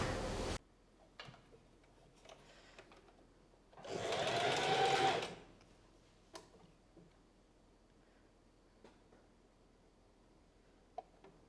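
Sewing machine stitching a seam to close a gap on a bubble skirt, one short steady whirring run of about a second and a half in a quiet room, with faint clicks of handling around it.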